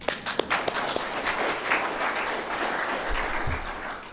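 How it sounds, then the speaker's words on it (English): A room full of people applauds steadily at a community gathering on treaty rights and tribal sovereignty, dense clapping filling the space for a few seconds with no voices over it. "So give yourself a round of applause."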